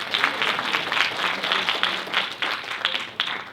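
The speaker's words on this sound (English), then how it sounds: "Let's give them another round of applause" Sustained applause from an audience at a university pitching competition for finalists, dense steady clapping lasting throughout without pause, moderately loud and close.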